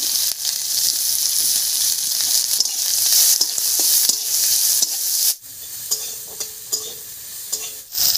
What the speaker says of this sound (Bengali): ফোড়নটা ভাজা হয়ে গেছে, এবার এর উপরে দেব পেঁয়াজ কুচি।